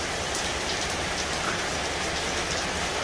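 Steady rain pouring down, a dense continuous hiss of drops on surfaces, loud and even throughout with no voices.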